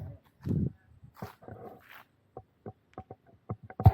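A dog at a residential school gives several short barks, fairly close, mixed in with people talking nearby.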